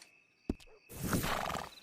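A horse in the Red Dead Redemption 2 video game neighs near a stable, a brief sharp onset followed by a loud, breathy whinny that fills the rest of the moment.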